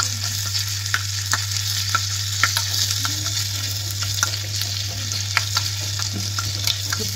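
A pinch of asafoetida heating in oil in a pan, a steady close sizzle over a low hum, with repeated light taps and scrapes from a spoon stirring throughout.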